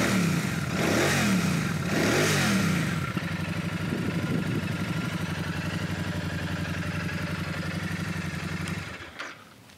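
A Royal Enfield Super Meteor 650 motorcycle engine revs hard in a few loud surges, then settles into a steady, throaty idle before cutting off near the end.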